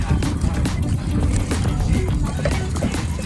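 A boat moving on water off Ilig-Iligan Beach, Boracay, with a rough, steady rumble of wind and splashing, occasional knocks and thumps close to the microphone.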